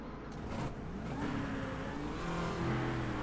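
Car engine in GTA V revving repeatedly, a close, loud, rumbling roar that swells and holds for a few seconds, heard alone without talk.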